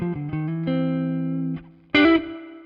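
Clean electric guitar through a Dumble ODS amp model in ToneX: a few sustained notes and chords ring out, then a louder, brighter chord is struck near the end and decays, with no talking.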